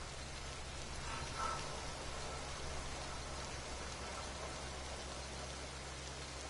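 Rain falling in a video game, a steady hiss of drops on surfaces with a low background rumble, continuous and fairly quiet throughout.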